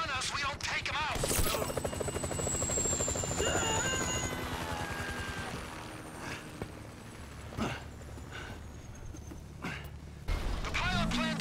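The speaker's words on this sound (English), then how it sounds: "That chopper's gonna be on us." Helicopter flying in the video game GTA V, a rotor drone running under game effects, sharp impacts and other sounds, with a voice speaking briefly.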